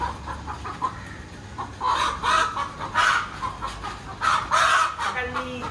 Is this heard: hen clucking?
yes